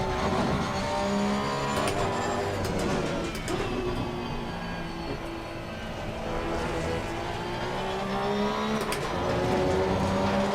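Spec-series race cars lapping in the racing game Assetto Corsa Competizione, a loud, continuous engine roar with rising and falling revs and gear changes, steady and close throughout.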